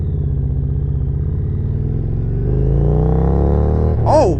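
A custom 2018 Harley-Davidson Road Glide motorcycle with a high-flow air filter accelerates, its low engine rumble rising in pitch and intake noise before a brief sharp shift at the end.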